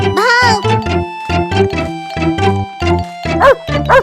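A cartoon dog in a kids' animation barks in a rapid series of short, loud, voiced yaps with little pause between them, up close and alone.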